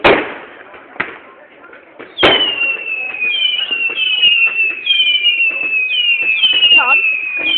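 Bonfire night fireworks, with a loud bang at the start and another sharp burst, followed by a long rising whistle and crackling fizz of rockets, close and loud, with people's voices faintly underneath.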